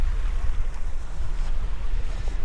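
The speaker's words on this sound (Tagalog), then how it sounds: "Ito yan ang ilog." A shallow, mossy river with a strong current at a campsite in Tanay, Rizal rushes continuously, a loud low roar mixed with wind buffeting the microphone.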